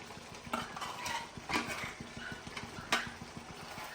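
Chicken curry being stirred in a pot: soft, regular scraping and tapping strokes of a spoon against the metal, repeating steadily close by with no one speaking.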